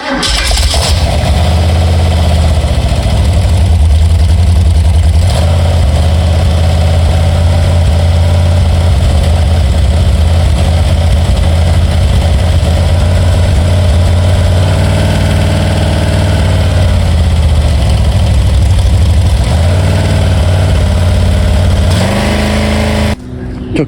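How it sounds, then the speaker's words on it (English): Ford 289 V8 in a 1973 Mercury Comet cranking and catching on its first start after a cam install, then a loud, steady rumbling idle with a brief revving swell before it cuts off near the end. "We'll get the engine running first and then turn that on."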